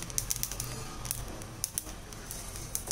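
Red rice grains popping as they dry roast in a pan, a scatter of sharp crackles and pops over a low steady rumble, faint and close.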